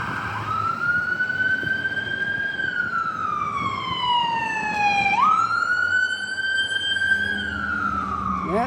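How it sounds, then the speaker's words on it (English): An ambulance siren passes along a downtown street, its loud wail sweeping slowly down and back up in pitch over steady traffic rumble, with no one talking. "Here an ambulance coming."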